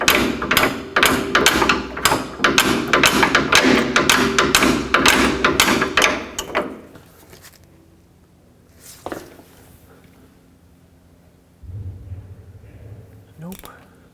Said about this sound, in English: I'm going to whack the socket a little bit more.